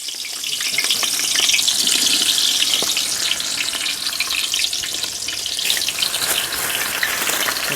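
Long-sliced onions frying in oil for mutton biryani, a loud close sizzle and crackle that runs continuously with faint clatter of stirring.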